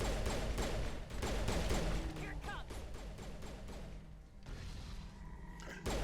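Rapid gunfire in the video game Mass Effect: Legendary Edition, dense bursts of loud shots and thuds hammering almost without pause, with a few brief gaps near the end.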